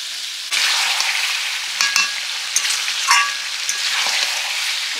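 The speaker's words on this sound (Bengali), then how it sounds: "ঢাকা দিয়ে মাংসটা কষিয়ে নেব" Chicken meat and potatoes frying with spices in a covered pan, a steady close sizzle with occasional pops and stirring scrapes, no voices.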